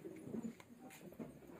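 Racing pigeons loaded in crates for a race give a few soft, low coos, faint and close against a quiet background hum.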